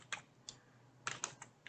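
Close, quiet keystrokes on a computer keyboard while text is typed into a file, irregular clicks in short clusters with pauses between them, and no voices.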